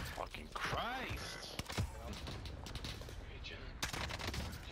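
Sniper shots and gunfire in a tactical shooter video game, sharp reports scattered under steady team talk over voice chat.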